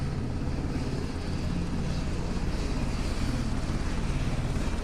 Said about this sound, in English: I'm not going to try to compete with a helicopter.